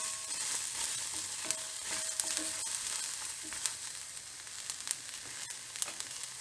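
Asparagus sizzles in a dry pan with no oil. A steady, close, hissing crackle runs throughout, with occasional sharper pops and light stirring scrapes, and no voices.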